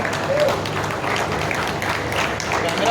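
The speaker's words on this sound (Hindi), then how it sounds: "और उससे भी ज्यादा जोरदार तालियां हो जाए for our main sponsor J Prime Buildcon." A crowd claps loudly at a property expo in Raigad after a call to cheer the main sponsor, a continuous, even burst of applause with some crowd murmur mixed in.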